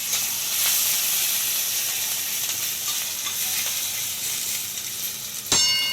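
Mustard seeds, lentils, cumin, asafoetida, garlic, ginger and chili paste sizzle steadily in hot oil, a loud continuous frying hiss with a brief clang near the end.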